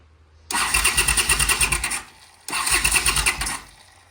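A 1979 Honda CX500 motorcycle engine cranking on its starter button in two separate bursts of about one and a half seconds each, a rhythmic churning whirr that never catches, close and fairly loud.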